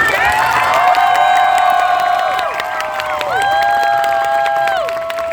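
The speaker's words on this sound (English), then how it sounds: "if we can give a final round of applause to our beautiful guests" A convention crowd at Smash Con 2022 in Sydney cheers and applauds loudly and continuously, with whoops and shouts mixed into the clapping and a brief voice near the start.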